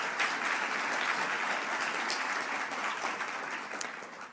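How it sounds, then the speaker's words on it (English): Steady applause from an audience at a Board of Education budget meeting, honoring the principal and staff, with dense clapping sustained throughout and tapering slightly at the end. "let's give her and her staff a round of applause"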